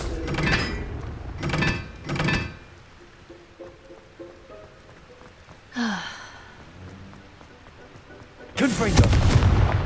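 A Confringo blasting spell in Hogwarts Legacy, with several short bursts early on, a whooshing swoop midway and a loud, crackling explosion near the end, separated by quiet ambient gaps.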